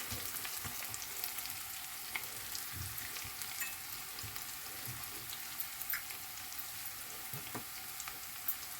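Two or three thinly sliced cloves of garlic sauté in a pan for a toor dal curry, giving a soft, steady frying hiss with light crackles throughout and nobody speaking.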